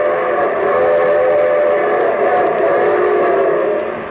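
Steam train sound effect opening a vintage railroad radio show: a sustained, chord-like train whistle sounds loudly over a low rolling rumble for about four seconds, then begins to fade.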